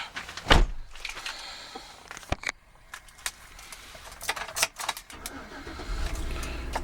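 A gray 2012 Chevrolet Suburban LT 4x4 starts up, with door and interior clicks and thumps before the engine turns over and settles into a low idle at close range.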